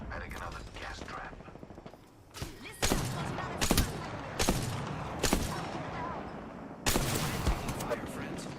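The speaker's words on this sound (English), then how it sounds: "Getting shot at." Video game gunfire, several sharp bursts and single shots at irregular intervals, fairly close and punchy, over a busy background of game sounds.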